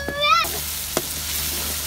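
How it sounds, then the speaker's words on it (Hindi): Onions, tomatoes, garlic and ginger fry in a pan with a soft steady sizzle, broken by a brief tonal clink near the start and a single stir or scrape. "हमने प्याज टमाटर और डाल दिए हैं, लहसुन अदरक इसको अब अच्छे से भून लेते हैं"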